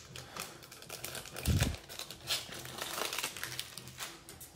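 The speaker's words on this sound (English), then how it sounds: "I'm going to sleeve some cards up" Close crinkling and rustling of plastic sleeves as Topps Chrome baseball trading cards are slid into them, quick irregular crackles with a soft thump partway through, no talking.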